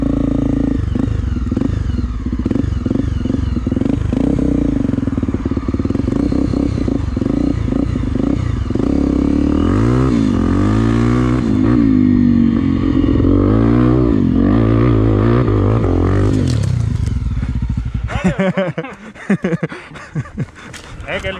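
A Honda Tornado trail motorcycle engine runs with a misfire on a dirt trail, rough irregular idling rising into uneven revving bursts, loud and close, with people talking over it.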